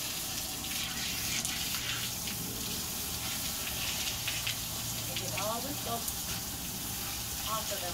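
An outdoor shower pen sprays water over a Rhodesian Ridgeback dog during a bath, making a continuous close splashing hiss that runs steadily throughout.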